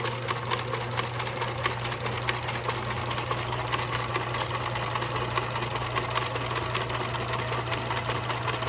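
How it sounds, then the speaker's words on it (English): A very old Kenmore sewing machine stitches ribbon, its motor running in a steady, continuous mechanical whir with a rapid rhythmic needle clatter, close and moderately quiet, with no voices. "on my very, very old and incredibly reliable Kenmore machine"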